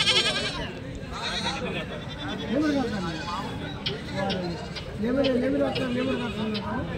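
Several goats at the Kadiri Tuesday goat market give short, quavering bleats in bursts amid constant crowd talk and market hubbub.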